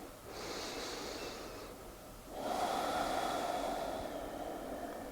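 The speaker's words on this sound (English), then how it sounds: "And breathe here." Slow, deep breathing during a yoga session, a soft airy inhale followed after a brief pause by a longer, louder exhale, close and quiet with no talking.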